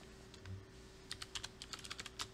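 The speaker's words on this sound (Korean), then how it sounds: "한번 타이핑을 해볼게요." A computer keyboard clacks faintly as someone types source code for a Python lesson, starting with a few scattered keystrokes and then a quick irregular run of taps.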